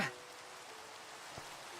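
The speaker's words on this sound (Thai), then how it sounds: "คือมันจะฝนตกให้ได้ทุกวันเลยหรือไงวะ" Steady rain falls softly and continuously, a faint, even hiss of drops that holds throughout with no voices.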